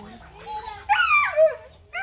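A small dog whimpers and gives a few high yips, a close, whiny run of cries with a louder burst near the middle, while a person talks underneath.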